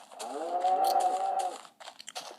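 A cow moos close and loud, one long drawn-out low call lasting over a second, followed by a few short scuffling sounds.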